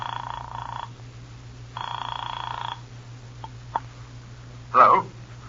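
Two long bursts of an old-fashioned telephone bell ringing in an old time radio drama, separated by a pause over a low steady hum, followed by a click as the receiver lifts and a voice begins.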